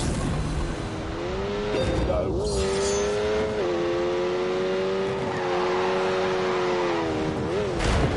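Lamborghini engine in The Grand Tour video game, a loud steady whine that rises and falls with gear changes, brief tire squeal around two seconds, voices talking over it.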